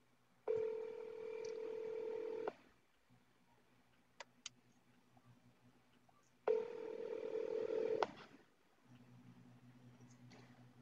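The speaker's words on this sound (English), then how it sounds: "let me try calling Roger again" Touch-tone telephone dialing during a video call: two long steady tone signals a few seconds apart, each followed by a quiet buzzing hum, with faint clicks between.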